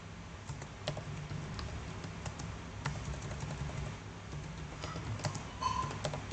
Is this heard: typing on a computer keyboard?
yes